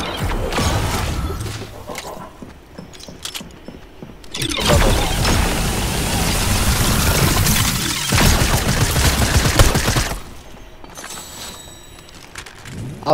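Sustained gunfire and explosions in the video game Fortnite, dense loud rattling bursts that swell and fade across several long stretches, with mechanical clatter in between.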